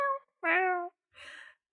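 A person imitates a cat, giving three short, close, drawn-out meows one after another, with nothing else in the background.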